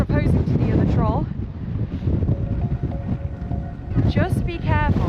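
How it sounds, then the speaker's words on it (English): Strong wind gusting at a cliff edge in West Iceland, roaring and buffeting the microphone steadily throughout, with people talking close by over it. "I don't know if you can tell from the mic how windy it is right now."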